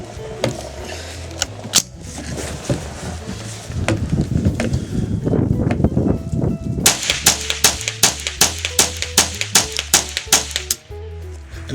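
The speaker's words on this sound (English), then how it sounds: "So that's 10 rounds, rapid fire, and it didn't jam whatsoever." Ten rounds of rapid fire from a 10/22 rifle fed by a factory magazine, sharp loud cracks in a quick irregular string, alone with no talking.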